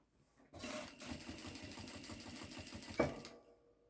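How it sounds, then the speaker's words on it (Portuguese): A sewing machine runs steadily as it topstitches fabric lining, a fast even mechanical rattle that starts abruptly, continues for about two and a half seconds with a sharp clack near the end, then stops; close and fairly quiet. "À medida que você vai costurando, fazendo pesponto, certifique-se que o seu forro, ele esteja bem esticadinho para baixo"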